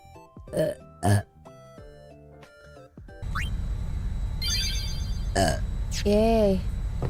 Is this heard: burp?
yes